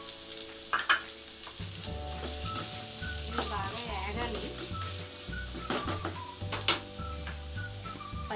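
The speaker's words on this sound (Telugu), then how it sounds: "ఆనియన్స్ వేసుకుంటున్నాను." Onions frying in about three tablespoons of oil in a kadai, a steady broadband sizzle with stirring scrapes and occasional clinks, loud and close, with a low background hum running underneath.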